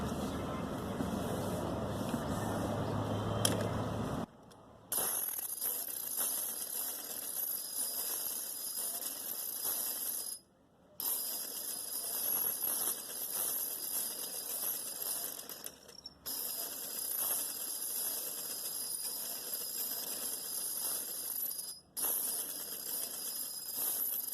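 A sewing machine stitches fabric for a poncha trouser in several long runs separated by brief pauses, giving a steady close high-pitched whir after a softer opening.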